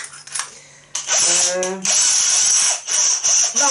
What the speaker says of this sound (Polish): Sprawdzimy, czy da rada wkrętarka.